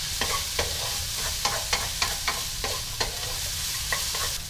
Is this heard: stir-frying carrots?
yes